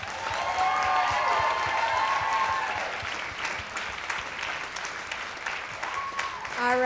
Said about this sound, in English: Let's give them a big round of applause for the hard work.